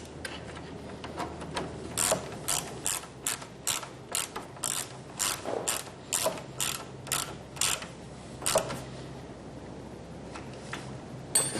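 A socket wrench ratchets on the battery disconnect nut of a 2012 Mazda Miata, giving close, quick bursts of sharp clicking strokes with short pauses between them.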